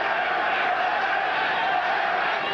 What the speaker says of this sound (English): the crowd now starts to rally to the support of Berbick